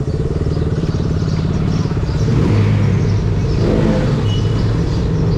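A KTM Duke 200 motorcycle accelerates on a Sunday ride along a village road, its engine a loud, close, steady rumble that rises slightly in pitch over several seconds.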